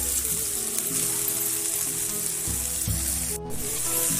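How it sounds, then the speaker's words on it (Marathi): Finely chopped kurdu wild greens sautéing in a pan for a Kolhapuri-style bhaji, a loud continuous sizzle up close with occasional stirring scrapes and a brief sharp burst near the end. "यामध्ये आपण बारीक चिरून घेतलेली भाजी ऍड करणार आहोत"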